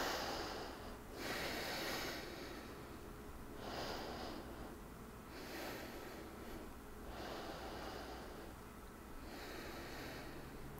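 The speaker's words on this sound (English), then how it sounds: "diaphragmatic breath. So you're gonna breathe into your belly, expand" Slow diaphragmatic belly breathing, each deep inhale and exhale rising and falling in steady waves roughly every two seconds, soft and close with no talking.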